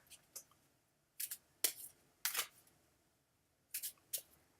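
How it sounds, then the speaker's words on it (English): A deck of cards gets shuffled in quick, crisp bursts, with short riffling flurries spaced unevenly over a few seconds, close but fairly quiet with no voices. "we are shuffling"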